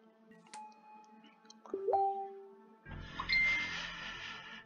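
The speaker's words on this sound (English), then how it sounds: "Sorry about that, Facebook notifications." Facebook notification chimes: a few bright, short dings ringing out one after another, moderately loud, in a quiet room during an online Magic card game.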